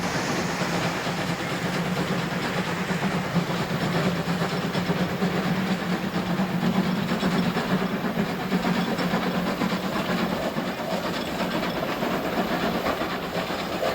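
The Feistritztalbahn, an Austrian narrow-gauge railway, runs behind a 1949 locomotive built by Đuro Đaković, travelling at around 35 km/h. Its steady rumble and faint rail clatter continue without pause and without voices.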